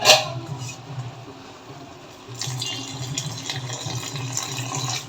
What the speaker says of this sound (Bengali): আমি সবটুকু পানি দিয়ে দিচ্ছি